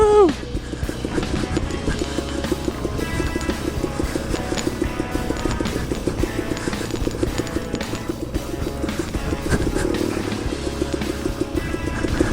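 Dirt bike engine droning steadily while riding up toward the summit of Flag Mountain, Colorado, loud and continuous, with wind and rough terrain noise mixed in.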